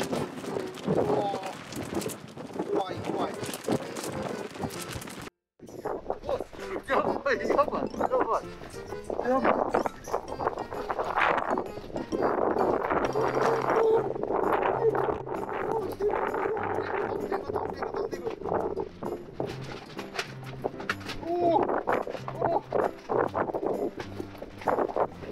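Strong wind buffets a winter campsite in gusty, continuous rushes, with a brief dropout partway through and people talking over the roar for most of the stretch.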